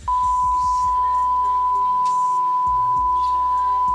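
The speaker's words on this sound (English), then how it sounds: "So it's gonna be all beeped out." A loud, steady censorship beep, a pure single-pitched tone, runs nearly the whole time with low rumbling noise beneath it.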